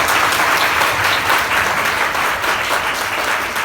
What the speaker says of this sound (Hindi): तो तालियां बजाओ भाई वहीं से